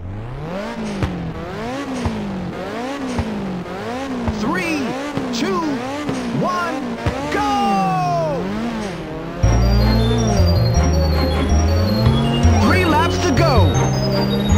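Several race car engines rev and whine in rising and falling waves at the start line in Ridge Racer on PSP, loud and close, with music entering partway through.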